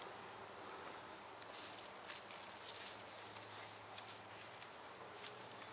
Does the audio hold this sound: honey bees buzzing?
yes